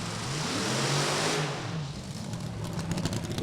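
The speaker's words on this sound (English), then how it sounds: "The injected nitro cars" Injected nitro drag racing cars revving at a drag strip, a loud broad engine roar that swells and then settles into a steady rumbling drone with rapid pulsing toward the end.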